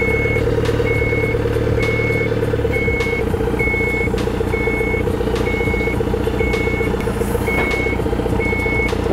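A Snorkel SR5719 scissor lift drives in reverse, its backup alarm beeping in a steady, evenly spaced rhythm over a constant engine hum, close and loud, with no voices.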